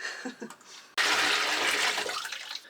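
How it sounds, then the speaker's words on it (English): Leftover water poured out into a sink in an off-grid cabin, a sudden steady splashing rush that starts abruptly after a brief quiet moment and continues loud and close to the end. "I'm going to dump out what's left of this water"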